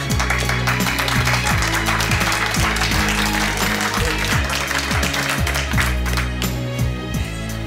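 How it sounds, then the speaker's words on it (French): An audience at a seminar on getting rich applauds itself, steady clapping blended with loud rhythmic music with a heavy bass that plays throughout. "vous venez de vous applaudir vous,"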